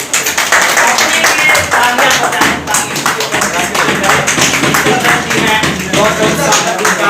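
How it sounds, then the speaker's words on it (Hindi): Applause from an audience at a gathering of Nepali and Indian journalists during an honouring ceremony, dense clapping and taps running steadily throughout with voices mixed in. "जोरदार तालियां"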